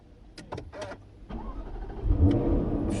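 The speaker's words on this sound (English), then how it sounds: "I did want to take the opportunity to just start her up" Jaguar F-Type R with its V8 engine cranking and firing into life, a burst of starter whirr and clicks giving way to a loud, rising rumble that settles into a steady idle close by.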